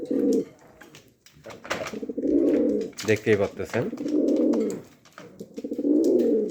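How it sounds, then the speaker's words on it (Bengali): Modena pigeons coo in repeated deep, rolling bursts close by, alternating with someone speaking between the calls. "আমার সবচেয়ে চঞ্চল কবুতর এবং ফেভারিট কবুতর হল মডেনা কবুতর"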